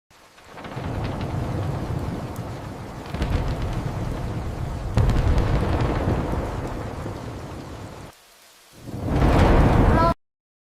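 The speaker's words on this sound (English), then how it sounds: "Yes, I hear the thunder. The thunder is very loud." Heavy rainstorm at night with loud thunder rumbling through steady downpour, several long rolling peaks, a brief lull, then a final close, loud crack-and-rumble; no speech.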